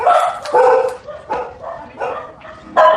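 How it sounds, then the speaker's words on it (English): Several dogs barking loud and close in repeated bursts, roughly one every half second, with yips between, in the Philippines. "We're going upstairs. Away from the dogs."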